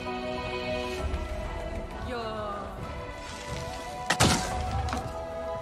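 A gunshot strikes a fruit on a tree in Avatar: Frontiers of Pandora, giving one sharp, loud thunking impact near the end over steady game music, with a person talking before it.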